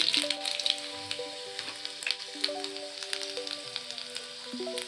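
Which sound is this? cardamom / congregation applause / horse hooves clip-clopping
cardamom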